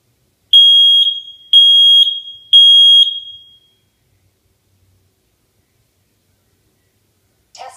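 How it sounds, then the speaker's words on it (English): A Nest Protect smoke alarm sounds during a manual test: three loud, piercing high beeps in a quick pattern, then silence and a faint sound at the very end. "Testing smoke."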